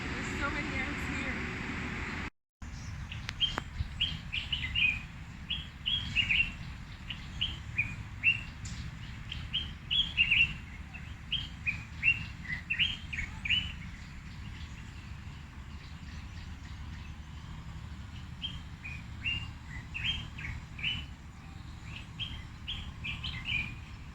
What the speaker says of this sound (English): You will hear a lot of bird life.